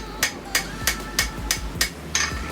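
A ball peen hammer taps steadily while carving a wooden kitchen utensil, about eight sharp, evenly spaced strikes ringing out close and clear with no talking.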